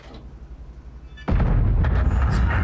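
A single heavy tank cannon shot in the World of Tanks video game, a sudden loud boom after a low engine rumble, followed by a sustained roaring tail.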